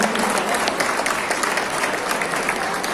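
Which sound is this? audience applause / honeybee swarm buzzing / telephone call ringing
audience applause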